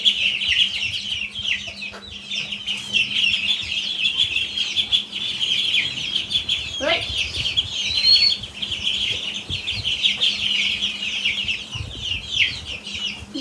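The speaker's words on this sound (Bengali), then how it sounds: "দশটা মুরগির বাচ্চা পনেরোটা হাঁসের বাচ্চা" Ten chicks and fifteen ducklings keep up constant high, busy peeping close by, with a soft low hum beneath and no speech.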